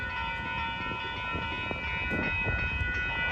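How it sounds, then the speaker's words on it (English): An Amtrak train passes westbound on track 1 with a steady, continuous rumble and sustained tonal ringing throughout, fairly loud and with no talk. "It's an Amtrak on track 1"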